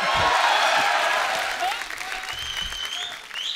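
A studio audience on a Hindi comedy talk show greets Sanjay Dutt's entrance with loud, continuous applause and crowd noise, holding steady for the whole stretch.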